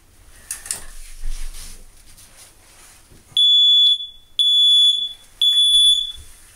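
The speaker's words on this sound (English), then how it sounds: "The alarm is ringing, which tells other people that somebody has fallen." A Gotcha Alive fall alarm sounds after a simulated fall, three loud, shrill electronic beeps about a second each, separated by short gaps, following quiet rustling.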